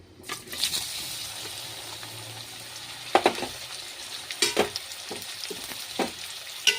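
Olives dropped into hot oil seasoned with whole panch phoron for an olive pickle, fizzing and sizzling steadily with a few louder bursts of spitting and stirring clatter, close and without talk.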